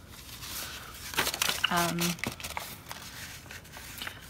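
Sheets of letter-size coffee-dyed paper are folded for bookbinding signatures, giving a brief burst of crinkling and rustling mid-clip, with a short tonal squeak, under quiet background.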